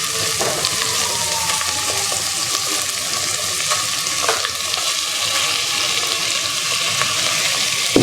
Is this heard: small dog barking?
no